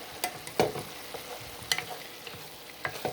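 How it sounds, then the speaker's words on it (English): Cabbage and onions sizzling and crackling in a hot frying pan, with a steady hiss and occasional sharp pops and stirring scrapes, close up with no talking. "Sounds like it's frying."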